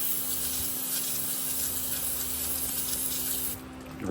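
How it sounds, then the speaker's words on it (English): A continuous hissing aerosol spray on a Toyota pickup's front brake rotor runs steadily for several seconds, then cuts off abruptly near the end, leaving a quieter background. "give her a quick spray"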